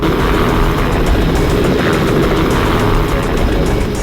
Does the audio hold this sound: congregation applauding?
no